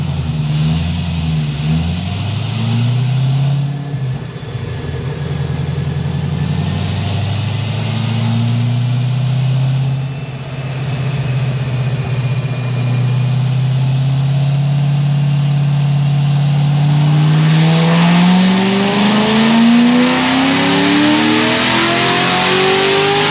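A 1000 HP Corvette C6 ZR1 with a stock cam revs on a dyno, its engine note sweeping and climbing loudly over more than twenty seconds, close and continuous.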